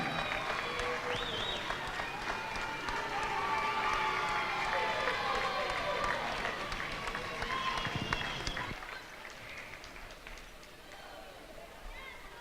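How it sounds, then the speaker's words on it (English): Crowd at a high school girls' basketball game cheering and applauding for the sophomores, a broad roar of claps and voices in a gym that thins out toward the end. "Let's give all of our sophomores a big round of applause for a job well done"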